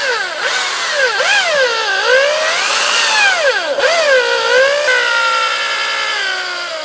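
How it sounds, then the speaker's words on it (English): A high, wavering metallic squeal rises and falls continuously as a tapered reamer bores through metal, loud and close throughout. "You're going to run this tapered reamer through here."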